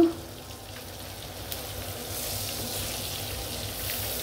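Hilsa fish frying in a pan gives off a steady, soft sizzle with a faint hiss of bubbling oil, opening with a brief clink before settling into continuous low crackling.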